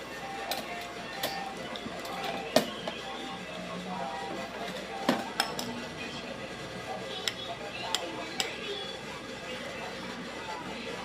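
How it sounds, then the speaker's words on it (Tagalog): A child plays with metal forks and spoons at home, making scattered light clinks and taps, some sharper than others, heard at close range under ongoing conversation and room noise. "pinaglalaroan niya po yung fork and spoon"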